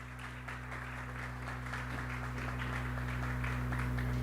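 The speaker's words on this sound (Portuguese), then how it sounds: "Palmas para ele." Steady applause from a crowd fills the space, dense and sustained, with a low constant hum underneath.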